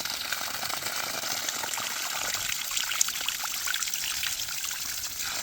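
Water gushes and splashes continuously from a freshly pumped, hand-dug Abyssinian well, a steady close rushing flow with no talking.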